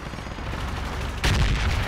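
Small arms gunfire in a video game starts with a loud, close crack, then sustains a dense, broadband rattle over a constant background roar.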